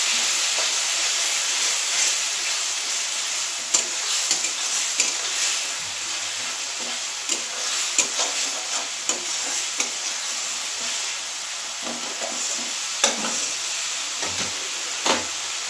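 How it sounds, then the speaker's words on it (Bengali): Onion paste masala with a little water stir-fried in a pan, a continuous sizzle and hiss broken by irregular scraping and knocking strokes of the spoon, close up, with no one talking. "জলটা দিয়ে আস্তে আস্তে এটা আমি কষিয়ে নিচ্ছি ভালো করে"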